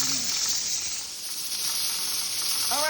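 Pressure canner processing raw packed onions, a steady hissing of escaping steam throughout with a brief wavering tone at the start and end, close and fairly quiet.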